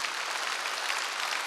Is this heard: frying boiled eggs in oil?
no